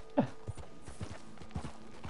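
Horse hooves clip-clop in Red Dead Online, a few soft, spaced thuds at a walking pace, close but fairly quiet, with a brief louder knock near the start and low background ambience.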